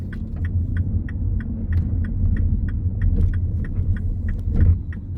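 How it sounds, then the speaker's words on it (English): A petrol MINI Countryman 1.6 Cooper five-door manual hatchback heard from inside while driving: a steady low engine and road rumble with light rhythmic ticking or rattling over the top, continuous throughout. "So yeah, the car is driving lovely."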